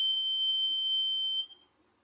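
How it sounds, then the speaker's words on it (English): A fire alarm sounds in the background as one continuous high piercing tone, steady and fairly loud, cutting off after about a second and a half into near silence. "That was the fire alarm going on."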